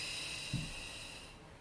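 A single short, hissing breath during a prenatal glute workout, close and fairly quiet over steady noise, fading out within a couple of seconds, with no voices.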